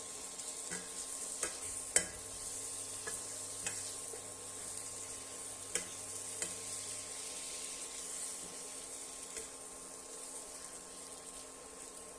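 Chicken pieces being sautéed with onion, ginger, garlic and Kashmiri red chili powder give a low continuous sizzle, with scattered sharp clicks of a spoon against the pan and a faint steady hum beneath.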